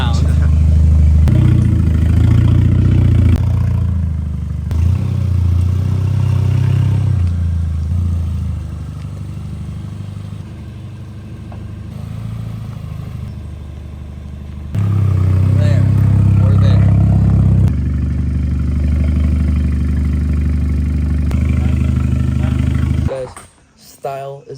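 A cambered stance car's engine idles with a loud, low rumble while the car is turned around, rising and easing with the manoeuvre and cutting out near the end, with a person talking over it.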